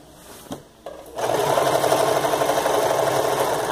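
A sewing machine stitching patchwork fabric for a ruffled skirt: after a couple of soft clicks it starts up into a loud, steady mechanical whir that runs without a break.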